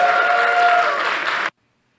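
Conference audience clapping after a breakout talk, a dense, steady wash of applause at close range that cuts off abruptly after about a second and a half, followed by silence.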